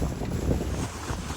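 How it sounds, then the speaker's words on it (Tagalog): Strong wind roars across the microphone in a constant heavy buffeting rush, loud and close, with a faint watery wash of deep waves beneath. "Malakas din ang hangin."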